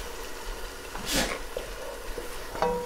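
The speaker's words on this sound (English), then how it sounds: "you're just going to keep stirring and stirring until almost all of that liquid is evaporated or sucked up" A spoon stirs risotto rice in a pan as its liquid cooks off, with a few scraping swishes and a soft bubbling sizzle at close range.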